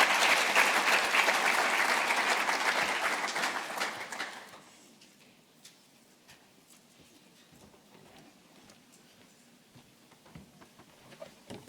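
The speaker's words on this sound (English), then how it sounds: "A round of applause, please, as he takes to the stage." An audience at a closing plenary session of the G-STIC conference claps for the CSIR CEO taking the stage, a full round of applause for about four seconds that tapers off into a quiet hall with a few scattered claps.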